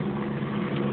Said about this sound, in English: That's the blue and white helicopter flying south directly over this apartment building.